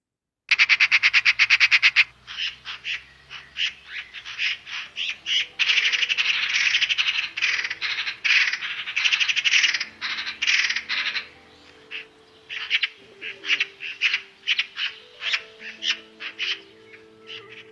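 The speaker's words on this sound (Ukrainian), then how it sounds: "А давайте послухаємо, як стрикоче сорока." A magpie chatters in a loud, harsh, rapid rattling burst that runs for many seconds, close and dominant, broken into uneven bursts near the end.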